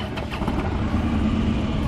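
A 2015 Harley Davidson Street Glide motorcycle engine runs steadily at close range, giving a low, rumbling idle with no talking.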